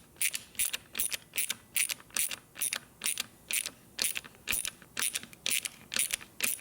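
A screw is worked by hand into a threaded hole in a 1986 Harley-Davidson Sportster EVO engine case, giving a steady run of sharp ratcheting clicks in regular bursts, close and fairly loud, with no talking.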